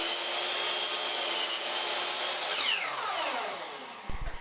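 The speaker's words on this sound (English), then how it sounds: "Now you can take the saw and cut your 1 inch piece." A saw cutting a 1 inch scrap of baseboard for a rounded bullnose corner, a steady whining cut that drops in pitch as it slows and stops, followed by a couple of short knocks.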